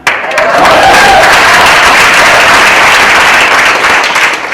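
An audience at a comedy night applauds loudly and continuously, a dense, close wall of clapping that starts abruptly and holds steady throughout.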